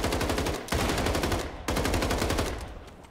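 Gunfire rings out in the World War II shooter Battalion 1944, with two loud, sharp shots, each trailing off in a long echo across the space, and no one talking.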